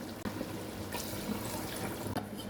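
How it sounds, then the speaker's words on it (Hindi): Water poured into a cooking pot over browned chicken tikka pulao masala, a steady broadband rush of liquid running continuously for a couple of seconds at close range, with no talking. "अब मैं इसमें पानी डालूंगी।"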